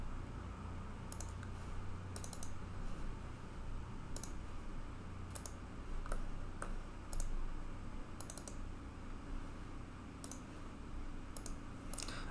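A computer mouse being double-clicked during work in heating design software: soft, paired clicks repeating at regular intervals over a quiet room, with no talk.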